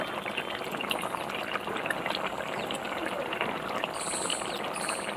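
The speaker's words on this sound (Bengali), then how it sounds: "এবার আমি এতে গরম জল অ্যাড করব" Hot water poured into chicken cooking in a pan for Bengali chicken kosha, a steady close gushing and bubbling hiss with a brief high whistle-like tone near the end and no talking.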